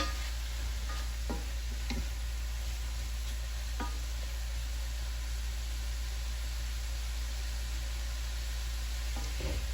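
Shrimp and vegetables stir-fry in coconut oil in a single pot, a steady hiss of sizzling under a constant low hum, with a few sharp clicks of a stirring utensil against the pot.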